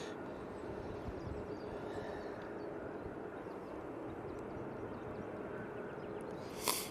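An EasyJet Airbus A320-200 departs Manchester Airport as a steady, distant broadband jet roar with low rumble. The sound stays fairly even throughout, with a brief sharp knock near the end and no talking.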